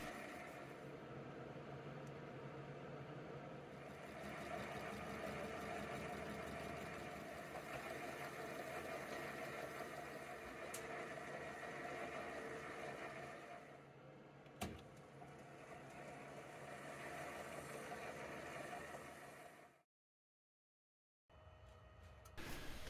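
A metal lathe facing off a boiler feed pump strap held on a mandrel, giving a steady mechanical drone with a faint cutting tone that runs continuously, pauses briefly near the end, then resumes.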